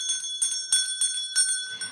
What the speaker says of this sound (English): I also brought my bell along